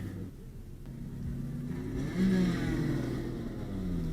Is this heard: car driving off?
yes